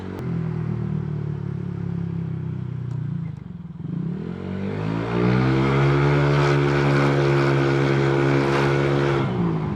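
A motorcycle fitted with an aftermarket TRC Racing power pipe exhaust and no engine remap idles with a steady, deep burbling exhaust note, then briefly dips before revving up and holding a louder, throaty drone close by.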